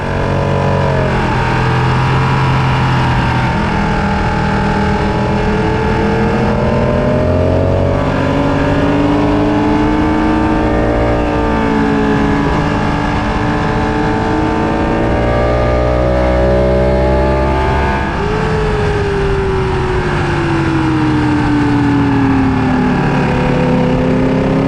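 A car at around 150 mph on a track day, its engine loud and sustained with rising and falling pitch through gear changes as it passes slower cars, steady roar throughout without talk.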